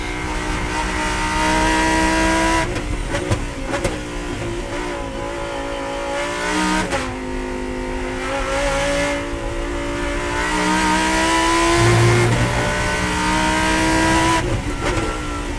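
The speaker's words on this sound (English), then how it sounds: "it's a great car, the Super Trofeo, so much fun to drive and really able to trust the car." A Lamborghini Huracan Super Trofeo race car lapping a circuit, its engine note loud and close, climbing and dropping through gear changes under braking and acceleration, with no talking.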